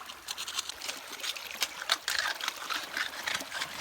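Cold river water trickling and splashing as sediments on a gravelly stream bed are stirred up by hand during a stream survey, a steady close-up wash of small bubbling, dribbling sounds with no voices.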